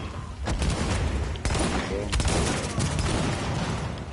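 Rapid bursts of gunfire in the video game The Division crackle over a dense, noisy background, with sharp shots punctuating the mix and a voice faintly present.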